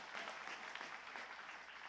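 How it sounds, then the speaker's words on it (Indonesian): A gathered audience claps for the organising committee, soft, distant-sounding applause with a steady crackling texture lasting about two seconds. "Kita boleh kasih tepuk tangan untuk panitia yang ngerjain ini?"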